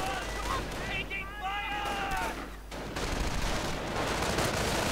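Gunfire and sniper shots crack out in a World War II strategy game match, a cluster of sharp reports over a continuous battle din with a tonal whine mid-clip, while a commentator talks over it.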